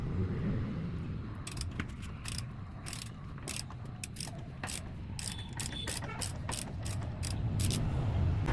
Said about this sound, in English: For that I'm using this 34 Nm axle socket. I converted it to a half-inch square drive torque wrench.